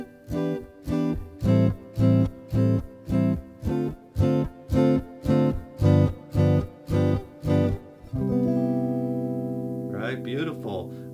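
Jazz guitar comps a 3-6-2-5-1 chord progression in steady, evenly spaced strummed chords, then lets a final major seventh chord ring out while a few soft notes are picked over it.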